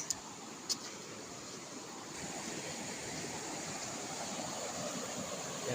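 A strong river current on the Pusilaw River rushes in a steady, dense broadband roar, close and constant, with no voices over it.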